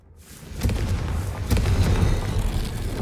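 A Confringo fire spell explodes in the Hogwarts Legacy video game, a loud low boom that swells and rumbles on for several seconds with a second surge midway, heard alone without talk.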